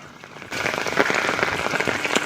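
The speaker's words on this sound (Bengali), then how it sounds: "যা বৃষ্টি হচ্ছে" Heavy rain pouring down over a flooded village with knee-deep water in the streets, a dense steady hiss of drops that swells loudly after a quieter first half-second.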